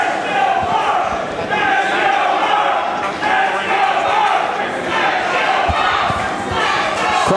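Wrestling crowd at the Houston Premier Arena roars in support of Mark Von Erich, a loud sustained mass of cheering and shouting voices with occasional thuds, mixed with a commentator's talk.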